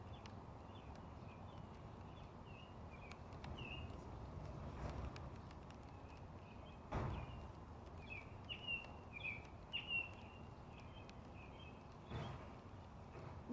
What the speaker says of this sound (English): Listening to the birds chirping,